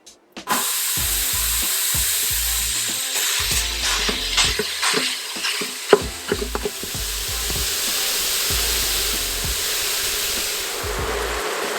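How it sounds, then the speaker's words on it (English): Half a pound of hamburger sizzles and fries steadily in a hot Instant Pot on the saute setting, with occasional scraping and stirring clicks over a continuous crackle. "we're going to start off by browning a ½ pound of hamburger"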